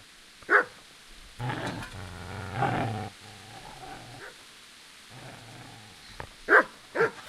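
A dog barks and growls in the video game Kingdom Come: Deliverance. There are a few sharp, close barks near the start and the end, with lower growling and snarling between them and no talk over it.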